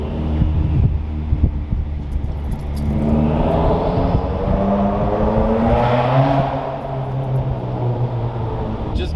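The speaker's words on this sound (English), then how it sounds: "Listen to that spool down." A 300HP dyno-tuned Subaru WRX turbo spools down inside the car, a loud steady engine rumble with a gliding tonal whine that falls away, under wind noise.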